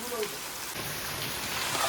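Steady rain falls over a village, a dense, even hiss of drops on surfaces that holds at a constant level throughout, with low voices murmuring faintly underneath.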